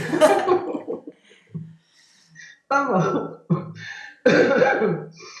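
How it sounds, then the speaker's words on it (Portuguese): A woman coughs a few times, harsh and close, between short stretches of speech. "um beijo com tosse"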